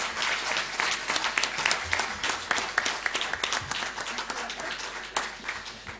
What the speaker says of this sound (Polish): Poprosiłbym serdecznie o brawa dla wszystkich naszych debatantów